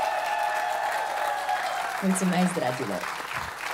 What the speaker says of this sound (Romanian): Aplauze pentru Ileana și Poteanu!